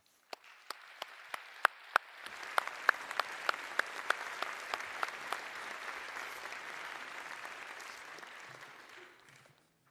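An auditorium audience at a Nobel Prize in Chemistry lecture claps to welcome the lecturer on stage; a few sharp early claps swell into sustained, dense applause that fades out near the end.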